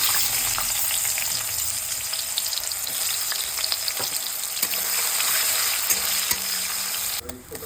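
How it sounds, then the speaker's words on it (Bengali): Onions dropped into hot oil left over from frying fish: a loud, continuous crackling sizzle that holds steady, with scattered taps of a utensil and a change in texture just before the end. "এই একই তেলে পেঁয়াজ দিয়ে দেবো।"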